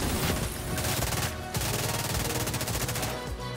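Railsplitter rifle fire in The Division 2: dense, rapid-fire gunshots, loud and continuous across the whole stretch, with a brief pause partway through.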